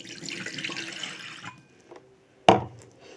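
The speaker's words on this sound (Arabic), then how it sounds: "هتنزل عليها كوبايه ميه" A glass of water poured into a cooking pot, a short splashing gush preceded by running water, close and fairly loud.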